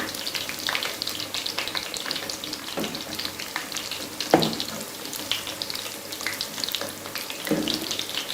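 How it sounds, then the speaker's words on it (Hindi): Homemade chicken nuggets fry on low heat in a pan, a continuous crackling sizzle up close, with occasional clinks and scrapes as pieces are turned over; no one speaks. "अब ये फ्राई हो चुके हैं।"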